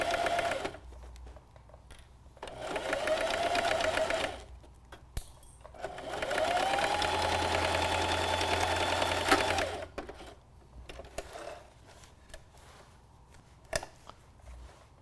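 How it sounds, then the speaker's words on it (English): A sewing machine stitches a boxed corner on a fabric bag in two sustained runs of rapid rattling, separated and followed by quieter pauses with small clicks and fabric handling, close up and fairly soft. "Then I'm ready to sew, and that really helps guide me. A little back stitch."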